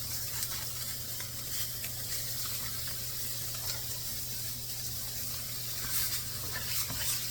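Catfish fries in butter in a pan, a steady soft sizzle and hiss that runs continuously at moderate distance, with no voices.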